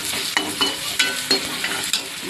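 Red chili powder, turmeric and tomatoes being sautéed and stirred in a pan; a steady close sizzle runs throughout, broken by several sharp scraping stir strokes at irregular intervals, with no talking.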